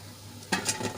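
A semolina and raw potato snack deep-fries in hot oil with a soft, steady crackle, then a few sharp spoon-and-pan clinks as it is stirred or lifted.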